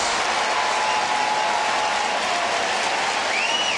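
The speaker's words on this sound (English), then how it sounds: "this crowd is revved up now" Crowd at a baseball game with the bases loaded, a steady broad roar of cheering and applause held evenly throughout, dense and loud with no pauses.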